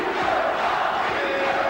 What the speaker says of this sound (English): Patricio, the name they have given him here in Italy, is being chanted by this enthusiastic crowd in Livorno